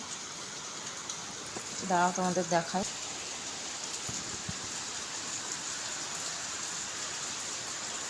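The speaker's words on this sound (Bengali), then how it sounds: "প্রচণ্ড বৃষ্টি হচ্ছে" Heavy rain pours outside in a constant, dense hiss that runs through the whole stretch, with a voice speaking briefly near the start.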